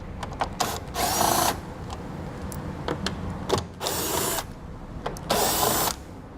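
T15 Torx screws are being removed from the hood area of a 2017 Chevrolet with a power driver: three loud, whirring bursts of about half a second each, separated by quieter clicks and handling noise nearby.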